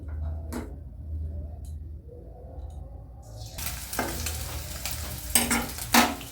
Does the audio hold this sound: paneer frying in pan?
yes